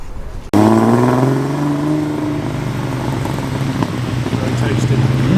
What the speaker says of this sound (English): We'll end on the fantastic Vespa Piaggio Ape.